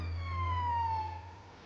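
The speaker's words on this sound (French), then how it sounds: "une ambulance arrive" An ambulance siren sounds as one long falling wail, steady and distant, over a low rumble with no talking.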